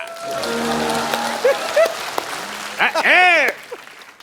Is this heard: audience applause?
yes